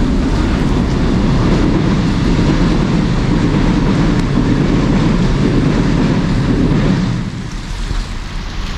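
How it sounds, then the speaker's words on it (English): A train rushing past at South Queensferry on a rainy day, a loud, dense, continuous roar and rattle that fades near the end, with no voices. "Train coming."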